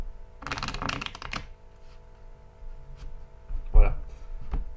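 A deck of playing cards riffled and shuffled in a quick burst of crisp flutters, then a softer brief shuffle later, with someone speaking French between them.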